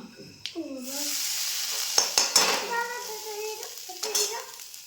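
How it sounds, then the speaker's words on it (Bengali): Grated coconut frying in hot oil with turmeric, a steady close sizzle with stirring scrapes and a few sharp utensil clinks against the pan; a voice speaks briefly over the cooking. "তেলের ওপর হলুদ দিলাম, এখন নারকেল কুড়ো দিলাম"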